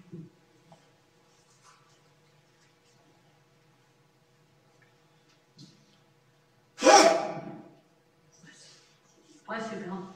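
A single loud, sudden sneeze bursts out near the middle of a quiet Sunday worship service in a church, followed by a shorter burst of sound and faint room noise.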